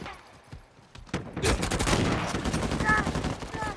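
Rapid shotgun and rifle fire from a first-person shooter game bursts out after a quiet second, a dense run of close, loud cracks over a busy background.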